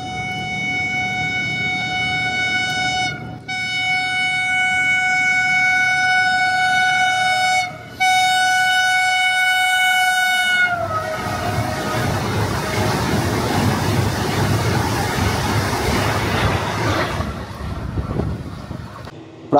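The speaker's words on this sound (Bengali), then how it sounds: "এই বৃষ্টির দিনে ধাওয়া করে আসছে ট্রেন নাম্বার 22549 গোরখপুর থেকে প্রয়াগরাজ বন্দে ভারত।" A Vande Bharat express, train 22549 from Gorakhpur to Prayagraj, approaches on a rainy day sounding long, steady horn blasts broken by short gaps, then roars past close by as a loud broadband rush that fades near the end.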